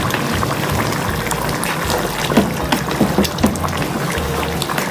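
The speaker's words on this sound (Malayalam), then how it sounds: "നല്ലതായിട്ട് ബീഫ് നല്ലതായിട്ട് തിളച്ചിട്ടുണ്ട്" Beef curry boils in a pot on a Kerala-style stove, bubbling with soft gurgles and occasional pops close by over a steady low rumble.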